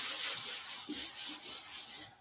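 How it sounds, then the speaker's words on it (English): A board being wiped clean of writing, with steady, close rubbing strokes in a soft, breathy back-and-forth rhythm that carries on without pause. "now I'm going to rub it all out"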